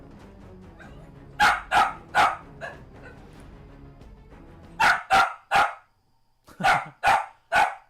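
A dog barks indoors in three clusters of sharp, loud barks, each burst three or four barks, with a quiet pause between groups.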